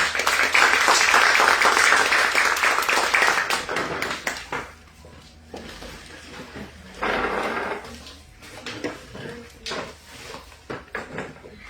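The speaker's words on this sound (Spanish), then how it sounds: "les pido que la reciban con un fuerte aplauso" Applause from a breakfast gathering audience starts loud and dense, then thins into scattered claps and knocks with quieter gaps and a short renewed burst.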